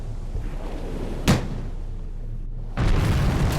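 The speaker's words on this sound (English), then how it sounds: "Now we get to fire up the guns." A 4-inch naval gun fires in the WWII naval game Victory at Sea: a sharp, loud blast, a short lull, then a heavier rolling boom that sustains to the end.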